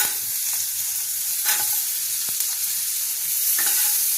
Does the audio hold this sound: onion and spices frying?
yes